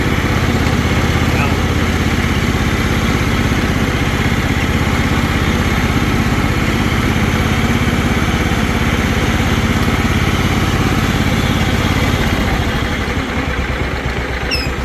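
A John Deere LT160 riding lawn mower idles close by, its engine giving a loud, steady, even throb that holds for the whole stretch before shifting slightly near the end; a voice speaks over it.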